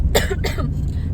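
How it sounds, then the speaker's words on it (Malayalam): Two harsh, close coughs come in quick succession, followed by a softer throat-clearing rasp, loud against a low room hum. "ഭയങ്കര ചുമ"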